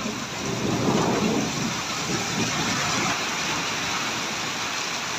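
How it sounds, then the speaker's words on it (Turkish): Steady heavy rain pours in a village during a storm with hail, a dense continuous wash of drops with low rumbling thunder swelling early and holding, close and loud with no talking. "Duyuyor musun arkadaşlar sesleri, yağmur seslerini?"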